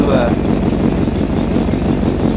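Loud, steady exhaust rumble from a running 1971 Oldsmobile Vista Cruiser, close and continuous, a throaty drone that fills the whole moment without letting up.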